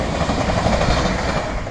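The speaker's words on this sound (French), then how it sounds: "TGV, évidemment." A TGV high-speed train rushes past at Créteil, a loud, close, continuous roar with rumbling wheel noise throughout.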